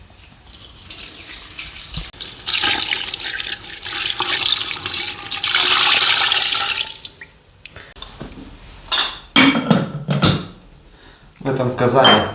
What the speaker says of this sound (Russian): Ну что, заливаем водичкой это все.